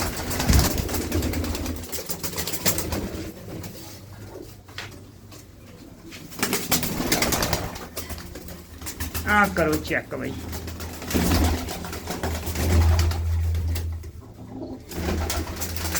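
Pigeons coo in a home loft, a soft rolling coo rising briefly in the middle, while someone talks over them nearby and birds shuffle and flutter in the background.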